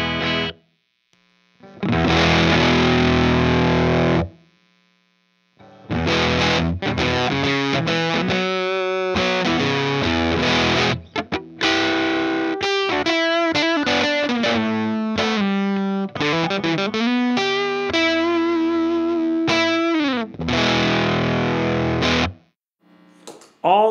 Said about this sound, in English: So with the bias all the way down, I find that this actually kind of sounds like an overdrive pedal to me.